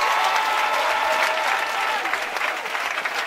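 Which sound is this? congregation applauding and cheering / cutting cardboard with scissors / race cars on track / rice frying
congregation applauding and cheering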